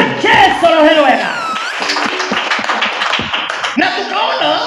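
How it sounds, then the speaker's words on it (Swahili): A church congregation breaks into rhythmic clapping for Jesus, dense rapid hand claps with whoops and shouts, loud and close, while a preacher's voice carries over the start. "Piga Yesu makofi mazuri"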